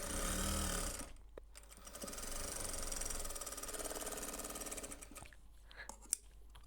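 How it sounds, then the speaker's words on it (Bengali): A sewing machine stitches fabric while a puffed sleeve with pleated trim is made, running as a steady, faint mechanical whir that continues for several seconds and ends with a brief click. "সেলাই করে বসিয়ে দিব।"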